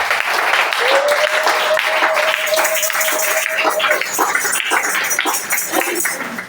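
A church congregation claps and cheers loudly and continuously, a dense crowd of hands and voices filling the space, with a sustained tone sounding briefly above the applause.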